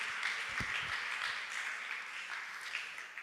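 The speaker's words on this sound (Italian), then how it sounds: "Possiamo applaudire il Signore per la loro vita?" A church congregation at an Italian worship gathering applauding together, a dense, even wash of clapping that runs for a few seconds at moderate distance.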